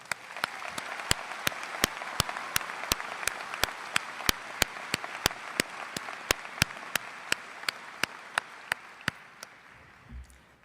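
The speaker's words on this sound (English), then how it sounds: "let's all give these teachers and staff a round of applause" Crowd applause for teachers and staff at a 2018 Round Rock High School graduation ceremony, a steady wash of clapping with sharp regular percussive hits punctuating it throughout before it fades out.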